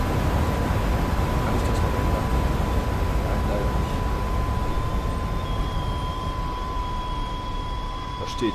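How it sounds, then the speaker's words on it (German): A regional train pulls into a station in the video game Train Simulator, a steady rolling rumble with a thin sustained whine, winding down slightly as it comes to a stop. "Der Zug ist jetzt gerade eingefahren hier."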